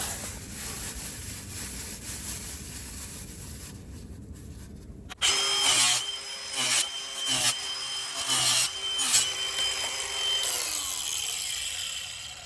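A grinder cuts through a plastic pool pump pipe fitting, starting abruptly after a quieter stretch and running as a loud, close whine with several short bursts and pauses before settling into steadier cutting.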